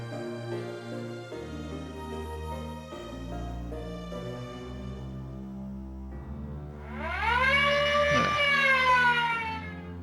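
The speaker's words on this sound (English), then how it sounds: "Inmates sit their proper places almost instinctively when they hear the lunch siren" Lunch siren in the DS game Infinite Space sounds over sustained music: a rising, wailing tone swells up in the final few seconds, loud and bright, then holds as the tune continues beneath.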